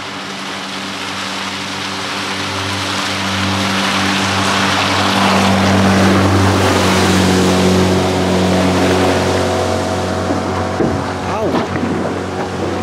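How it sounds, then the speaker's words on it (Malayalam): A Yamaha Enduro 9.9 outboard engine revved out of gear to warm up, a loud, steady motor drone that swells and holds before easing slightly, with a voice talking faintly near the end. "ഇതിപ്പോൾ ഗിയർ ഇട്ടിട്ടില്ല, ജസ്റ്റ് ആക്സിലറേഷൻ കൊടുത്തിട്ട് എഞ്ചിൻ ഒന്ന് ഹീറ്റ് ചെയ്യുകയാണ് ഞങ്ങൾ ചെയ്യുന്നത്."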